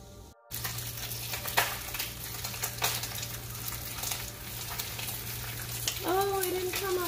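Keto waffle cooking in a waffle maker, a steady soft hiss and crackle of batter steaming against the hot plates under a constant low appliance hum, with a few light clicks and a rising whistle-like tone near the end.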